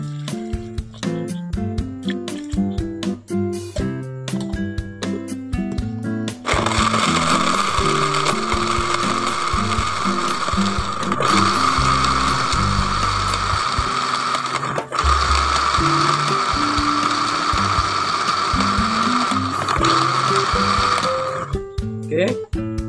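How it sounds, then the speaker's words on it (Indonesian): An electric blender whirs loudly for about fifteen seconds while pureeing organic pesticide ingredients with water, a dense continuous grinding roar that starts and stops abruptly, with background music playing before and underneath. "semua bahan sudah di blender dan sudah halus"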